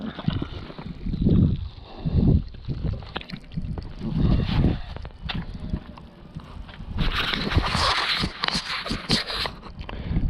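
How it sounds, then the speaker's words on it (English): Fuel gushes and sprays from a disconnected Jeep XJ fuel line, a hissing, splashing rush that swells over the final few seconds after quieter rustling and handling noises. "And there goes the fuel."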